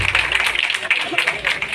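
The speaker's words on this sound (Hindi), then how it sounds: "एक बार हम सब मिलकर तालियां बजा दें।" Crowd at an honouring ceremony for sanitation workers claps together, a close, busy patter of many hands with slight surges, mixed with faint voices.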